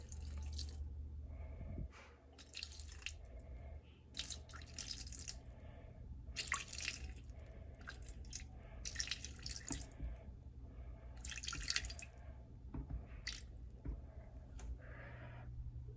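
About four ounces of liquid poured into a Thermomix bowl sitting on its built-in scale, heard as intermittent close splashing and trickling bursts over a steady low hum, with no talking.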